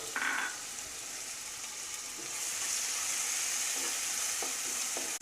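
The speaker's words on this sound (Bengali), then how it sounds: "মিডিয়াম ফ্লেমে পেঁয়াজগুলোকে আমরা 1-2 মিনিট একটু ফ্রাই করে নেব" Two chopped medium onions frying in a pan on a medium flame, a steady soft sizzle with a few brief stirring scrapes and clinks, no talking.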